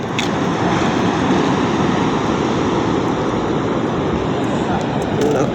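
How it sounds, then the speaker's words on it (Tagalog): Steady, loud wash of ocean surf beside a boat landing, waves breaking continuously close by with no pauses. "dinig na dinig yung alon doon sa tabi doon sa daungan"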